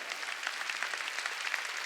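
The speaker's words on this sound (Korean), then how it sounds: "박수 치자요." A church congregation claps together during a Sunday worship service, a brief burst of dense, even applause heard at moderate distance.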